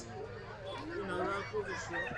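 Roosters and ducks at a busy village market (Meradia haat) give honking, squawking fowl calls over a dense crowd murmur, with voices talking nearby.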